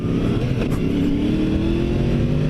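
Yamaha FZ-10 motorcycle engine, 2017 model, revving under throttle while riding, with a steady loud drone and slowly rising pitch, heard up close with no talking.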